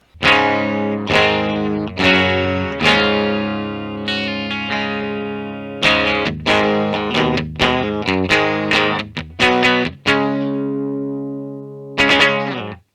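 A 1987 Gibson US-1 electric guitar with its humbucker coil-split plays a slow run of plucked notes and chords with a thinner, brighter tone, each note ringing out and decaying, with pauses between phrases.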